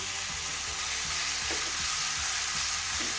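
Chicken and carrots stir-frying in a pan: a loud, continuous broadband sizzle with scraping and stirring knocks from a utensil throughout, and no talking.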